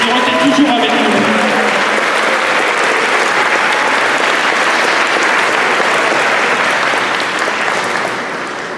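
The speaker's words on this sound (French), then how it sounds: "Alors les applaudissements très fort" Loud, sustained applause from a large crowd at the closing celebration of a diocesan pilgrimage in Lourdes, with voices mixed in; the clapping stays dense for about seven seconds before starting to fade.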